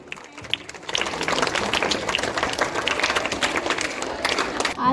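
Applause from a school audience at a Dussehra celebration swells after a quiet start into sustained, dense clapping that lasts several seconds before tapering off, with a voice audible briefly near the end.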